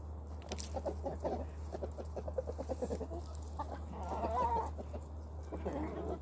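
Hens cluck and murmur continuously in a bursty, chattering rhythm, with a low steady hum underneath and no voices.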